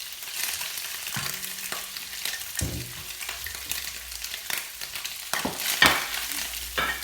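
Garlic frying in a pan on an electric cooker, with a steady close sizzle and occasional scrapes and stirring knocks from a utensil against the pan, no talking.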